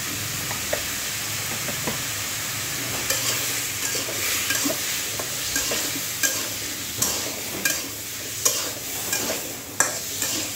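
Cumin paste, coriander, turmeric and chili powders are stirred and fried in a pan for a hilsa fish curry with bottle gourd. A quiet sizzle runs under repeated scraping strokes and light knocks of the spatula.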